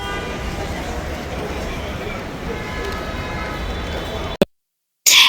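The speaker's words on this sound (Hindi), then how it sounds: "पीछे गाड़ियों का जो शोर था, हॉर्न की आवाज़ें" Dense, steady roar of busy New York City street traffic with car horn tones sounding through it, then a sudden cut to near silence before a loud burst returns.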